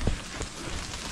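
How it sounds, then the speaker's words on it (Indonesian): Light drizzle patters steadily on a mountain hiking trail up Mount Wilis, a soft continuous hiss of fine raindrops with no talking. "Gerimis lagi, pakai tudungnya."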